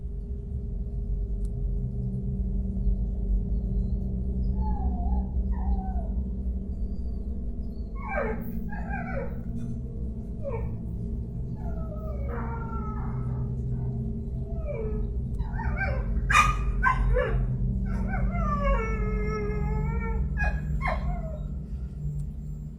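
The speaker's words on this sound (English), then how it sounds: "Her dog was barking at seemingly nothing" A small dog barks at night, with a series of scattered, distant yaps and whines over a steady low background hum; the barks grow more frequent and rapid toward the end.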